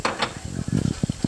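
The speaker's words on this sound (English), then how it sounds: "I make the pancakes here" Pancakes cooking in a pan make close, loud sizzling with short scraping and stirring bursts in an irregular rhythm.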